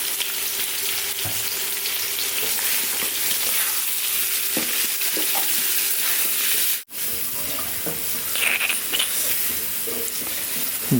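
Food frying in oil, seasoned with salt and chaat masala, gives a steady, close sizzle throughout. A brief dropout comes near the middle, and a few light clinks sit on top of the sizzle.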